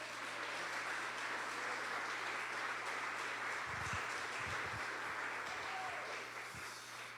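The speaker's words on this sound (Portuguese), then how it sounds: "Aplauda Jesus," Church congregation applauding during a sermon, a dense steady wash of clapping that fills the whole stretch at a moderate distance, with a few low thumps underneath.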